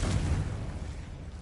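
A deep, muffled boom from the Confringo explosion spell in the video game Hogwarts Legacy, a single short low rumble that fades over about a second.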